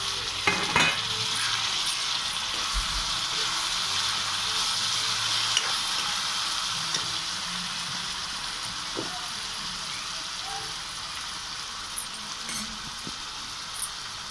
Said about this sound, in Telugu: టమాటా ప్యూరీ చింతపండు ప్యూరీ తీసేసి ఆనియన్స్ వేగిపోతున్నాయి. టమాటా కూడా వేసేసాను.